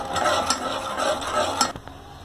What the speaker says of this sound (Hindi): गैस को कम करके चीनी को अच्छे से मिला लेती हूँ